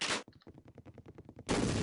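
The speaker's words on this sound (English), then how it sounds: "Man, that explosion is always bigger than I remember." An explosion in the Half-Life: Opposing Force video game bursts loud and broad at the start, then a rapid run of crackling pops follows before a second heavy blast.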